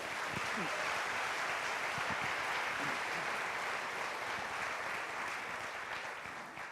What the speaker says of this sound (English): Round of applause for our Board of Trustees.